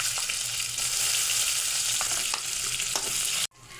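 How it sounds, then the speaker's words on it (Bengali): Onions and cumin seeds frying in hot oil in a pan, a loud, continuous bright sizzle with occasional stirring scrapes and pops, cutting off abruptly at the end. "আর দেবো পেঁয়াজ। লাল লাল করে ভেজে নেবো।"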